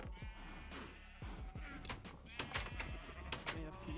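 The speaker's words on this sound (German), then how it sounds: "So, Schafe, die kriegen natürlich auch noch fressen." Sheep in the video game Minecraft bleating repeatedly in short, overlapping calls at a steady moderate level, with faint background game sounds.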